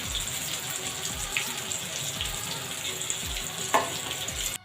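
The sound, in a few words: frying food in a pan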